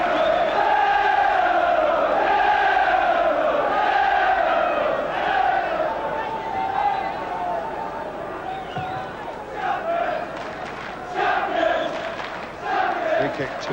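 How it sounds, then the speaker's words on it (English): Crowd noise from Norwich and Liverpool supporters at a 1989 football match, a broad swelling roar of applause and cheering that fades and returns in waves, with a commentator's voice faintly over it. "Generous applause from the Norwich fans as well as those of Liverpool."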